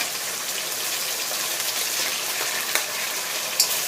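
Catfish stir-fried in a pan for a crispy dry stir-fry with chili and ginger, giving a steady, close, dense sizzle and hiss throughout with no voices.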